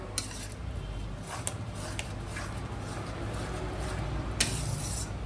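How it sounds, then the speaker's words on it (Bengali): A pan of mustard-poppy pabda fish gravy is stirred gently, producing faint scattered scrapes and clinks of a utensil against the metal over a low background hum. "একটু নাড়িয়ে নিলাম হালকা করে"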